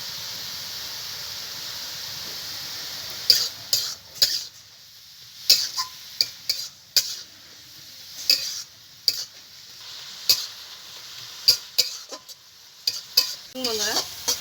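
Saag greens being fried and stirred in a pan with salt and turmeric, a quiet sizzle broken by repeated sharp scraping strokes of a spatula every second or so, close and fairly loud.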